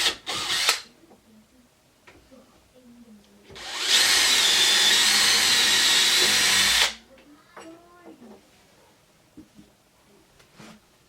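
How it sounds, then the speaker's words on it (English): Power drill pre-drilling screw holes for a door striker plate, one sustained loud whir of about three seconds standing out between quieter handling noises and light clicks. "you're going to want to pre-drill"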